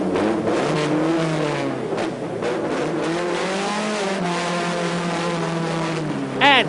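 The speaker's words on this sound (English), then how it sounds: "Start the car." A 1987 touring race car fires up and pulls away from the pits at Silverstone, its engine revving loudly and steadily with shifting pitch, then a sharp rising whine right at the end.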